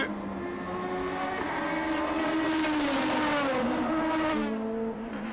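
Formula Atlantic race car number 32 at the Trois-Rivières Grand Prix street circuit, its high-pitched engine screaming steadily with rising and falling revs as it drives by, loud and continuous throughout.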